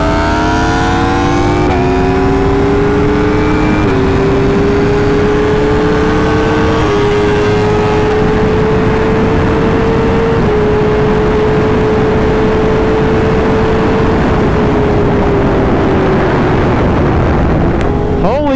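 A Yamaha R1 and a BMW S1000RR sport motorcycle pull hard in third gear from 80, a loud close high-pitched engine wail climbing steadily through the rev range with a brief dip and then a long sustained rise.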